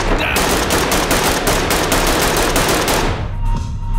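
Rapid automatic gunfire in the tactical shooter Ready Or Not, a loud, dense stream of shots filling most of the clip before cutting off near the end.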